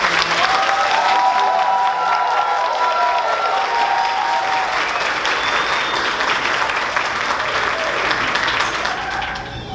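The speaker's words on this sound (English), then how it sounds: "Please give a round of applause." Sustained audience applause fills a school 5th grade promotion ceremony, a dense steady wash of many hands clapping at close range, with faint cheering mixed in and a brief lull near the end.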